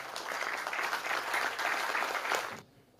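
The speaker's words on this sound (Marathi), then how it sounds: "आपल्या टाळ्या सांगतील." Audience at a village gathering for a poetry recital clapping loudly and steadily for about two and a half seconds, then cutting off abruptly into quiet.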